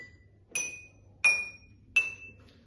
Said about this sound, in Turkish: bir kalem yardımıyla 4 bardağı da sırasıyla vurup sesin nasıl değiştiğini gözlemleyeceğiz